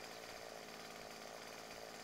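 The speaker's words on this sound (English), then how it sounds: "Let me spawn you a chainsaw, hang on." A chainsaw runs in the survival video game 7 Days to Die, giving a faint, steady buzzing drone that holds evenly without revving up or cutting out, with no voices over it.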